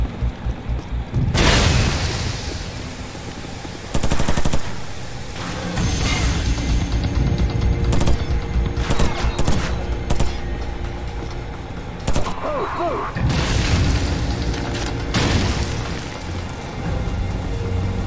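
Heavy gunfire near the vehicle depot during the Call of Duty 4: Modern Warfare launch control room mission, with loud sustained volleys and sharp repeated cracks and booms throughout.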